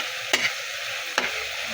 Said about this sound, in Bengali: এখন নেড়ে চেড়ে একটু মিশিয়ে নেব পেঁয়াজের সাথে গুঁড়া মশলাগুলো।